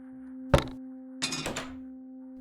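A gun drops in the game The Cat Lady: one sharp thunk lands, then a brief burst of clattering follows, with no voices.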